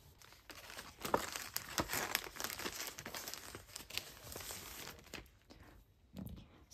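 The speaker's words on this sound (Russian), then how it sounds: "я буду упаковывать вот такую вот красивую бумагу" Decorative wrapping paper crinkled and crumpled by hand while packing a baby's things, a close, quiet run of irregular crackling rustles that thins out toward the end, no talk.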